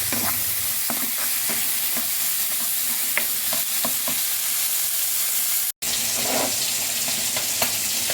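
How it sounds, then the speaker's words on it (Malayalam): Ingredients for a fish roast are sautéed in a frying pan, making a continuous loud sizzle with scraping stirs and clinks, broken by one brief cut of silence partway through. "നമ്മൾ ഫ്രൈ പാനിലൊന്ന് വാട്ടുക"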